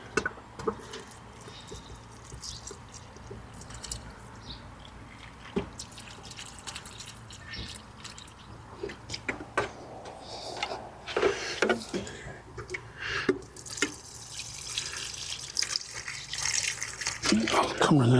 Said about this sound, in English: Give them a good water.